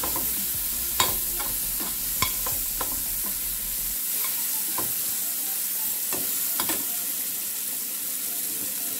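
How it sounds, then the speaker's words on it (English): Apples fry in butter in a pan with a steady low sizzle, while occasional stirring clicks and scrapes sound close by and no one speaks. "Here I have some apples, and they are in some butter right now."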